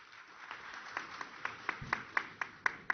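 Applause from a banking technology conference audience, a faint scatter of claps that becomes sharper and more regular toward the end, heard from a distance.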